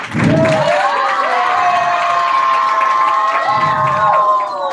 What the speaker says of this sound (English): Yeah, you can keep clapping.